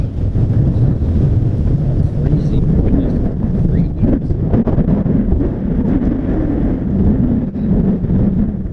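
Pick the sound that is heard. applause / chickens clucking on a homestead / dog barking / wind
wind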